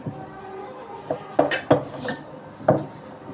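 An iron tawa is scrubbed with lemon to lift rust, giving a few short scraping and clinking strokes against the metal, close and uneven, with quiet gaps between rubs.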